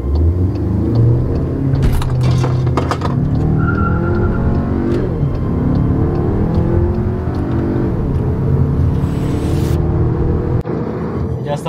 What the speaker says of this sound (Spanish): vamos a empezar con un launch control.